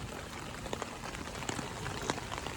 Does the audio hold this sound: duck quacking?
no